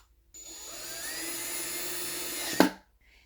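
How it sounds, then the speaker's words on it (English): A Ryobi drill driver drives a Phillips head screw with a single continuous whirring run that ramps up and holds, then ends in a sharp clunk as the screw seats, close and clear with no talk. "So this one is a Phillips head, so I'm going to drive in this screw"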